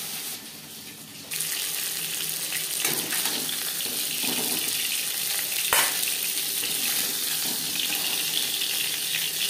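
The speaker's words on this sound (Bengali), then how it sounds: "একটা সাইড ভাজা হয়ে গেলে অপর সাইডটা উল্টে দেবো।" Fish pieces, including the head, fry in oil for a fish curry, producing a continuous close sizzle with a soft spattering texture and one brief sharp crackle midway.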